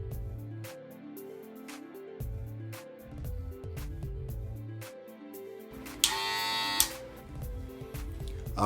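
Cordless Wahl Senior hair clippers, customized all black with ceramic blades, buzzing in short bursts amid handling noise, with a brief louder whine partway through; the motor hum is moderate and close.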